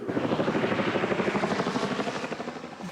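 A helicopter flies over during a search, its rotor thumping in a steady rapid pulse, loud and sustained throughout.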